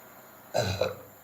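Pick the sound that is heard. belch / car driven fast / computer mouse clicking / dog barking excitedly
belch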